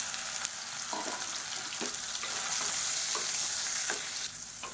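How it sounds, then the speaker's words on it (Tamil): Soaked, squeezed soya chunks fry and roast in oil, a steady bright sizzle with periodic scraping stirs, close and without voices. "இப்போ பாருங்கள் சோயா சங்க்ஸ் வந்து நல்லா அப்படியே ரோஸ்ட் ஆகி வந்துருச்சு."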